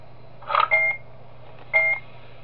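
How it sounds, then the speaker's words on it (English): Electronic security-camera beeps from a FNAF fan game, a short burst of tones followed by another brief beep a second later, clear over a low steady hum with no talking. "If the camera makes a beeping sound again,"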